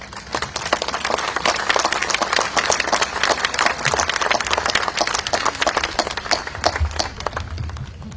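Steady, full applause rolls through a crowd at a memorial gathering, the clapping thick and continuous from start to finish, with a few low thumps underneath.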